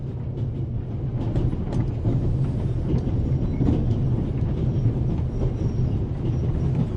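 A steady, continuous rumble and rattle of the Orient Express rolling along the rails in a video game, with a constant wheel clatter throughout and no talk.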